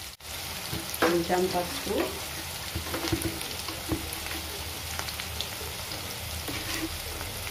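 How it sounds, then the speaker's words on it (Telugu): Green chillies and onions fry in oil with drumstick and potato, a steady crackling sizzle broken by stirring scrapes and a few utensil clinks, while a voice speaks briefly over it. "పచ్చిమిరపకాయలు, ఉల్లిగడ్డ వేసి కొంచెం నూనెలో కొంచెం ఫ్రై లాగా చేసుకోవాలి"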